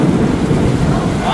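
Heavy rain pours outdoors on a windy day, a loud, dense, continuous roar with a low rumble and no voices.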